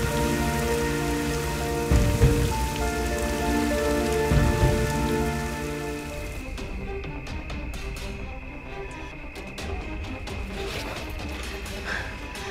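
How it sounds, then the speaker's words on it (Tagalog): Heavy rain pours steadily on a surface through the whole stretch, a dense loud wash with a couple of heavier bursts early on and no voices over it. "Ang lakas ng ulan."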